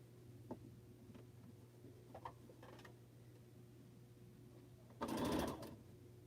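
A home sewing machine stitches a quilt block in a short loud burst near the end, after quiet moments with a few faint clicks and a steady low hum.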